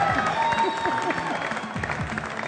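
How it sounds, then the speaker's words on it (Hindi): A TV game show studio audience applauds, a steady wash of clapping hands heard moderately with a host's voice and music-like tones running underneath. "तालियां बजा दें सब जबरदस्त।"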